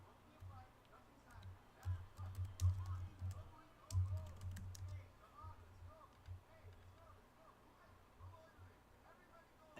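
Keys tap on a computer keyboard in short bursts, faint and close, with soft clicks fading out over the second half.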